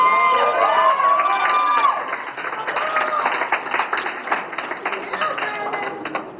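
A college audience claps and cheers loudly, with steady dense applause and scattered shouts and voices mixed in throughout.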